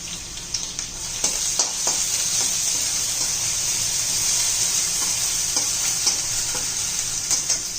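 Ginger paste sizzles loudly in hot oil, with a constant crackling hiss and occasional scraping from stirring.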